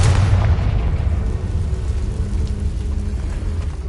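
A Confringo blast curse bursting in the Hogwarts Legacy video game, a loud booming explosion at the start that decays into a long rumbling roar, with no voices.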